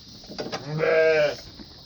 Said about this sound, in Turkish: Burada da 300 doğuran koyunlarımızı koyduk arkadaşlar